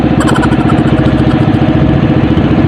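A fishing boat engine chugs loudly and close by, its rapid, steady rhythmic putter running throughout without any talking.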